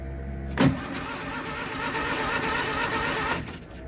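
A Kohler M18 engine in an Argo 8x8 amphibious vehicle cranks and struggles to start after heavy use, giving a steady whirring starter-motor drone for a few seconds without catching, close and moderately loud.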